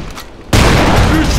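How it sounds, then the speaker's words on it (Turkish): A bomb going off in the video game District 187, a sudden loud blast halfway through that rolls into a dense sustained roar of gunfire-like explosions. "Bomba atıyorum. İkili combo."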